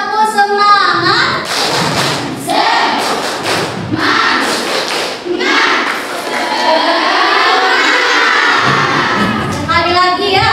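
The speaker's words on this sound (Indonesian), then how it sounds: "Coba tepuk semangat." A physics class of students performs a rhythmic spirit clap, with loud bursts of clapping and thumps mixed with chanting, shouting young voices that rise and fall in a group cadence.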